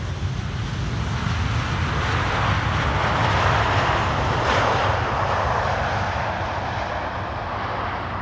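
A KLM Boeing 747 arrives at Schiphol's Polderbaan runway, a loud, steady roar of jet engines mixed with wind rush that swells slightly midway, heard close and alone.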